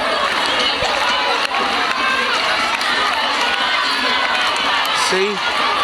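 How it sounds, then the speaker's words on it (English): A large crowd cheers and roars continuously at a children's race during the 2014 Fiji Coca-Cola Games athletics meet, loud and sustained, with shouting children and an announcer's voice mixed in. "This crowd is fantastic. This is a fantastic crowd."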